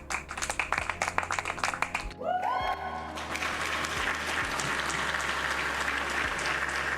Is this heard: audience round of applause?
yes